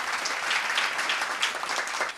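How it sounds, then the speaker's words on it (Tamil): Loud, steady applause from an auditorium audience honoring a teacher at a Tamil event, a dense wash of clapping that holds for a couple of seconds before tapering slightly. "அவங்களுக்கு ஒரு பலத்த கைத்தட்டு கொடுக்கலாம்"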